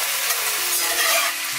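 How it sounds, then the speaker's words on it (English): Soy sauce being stirred into food frying in a pan, a steady close sizzle with scraping stir strokes running throughout the short stretch. "Get that stirred in."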